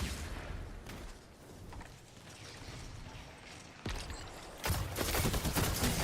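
Rapid gunfire rattles in a Destiny Trials match, with dense bursts of shots and sharp cracks, rising louder near the end.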